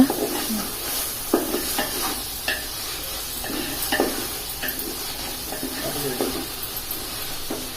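Green chilies and tomatoes fry in a pan for country chicken biryani, a steady hiss and sizzle with scraping stirs of a spoon against the pan throughout.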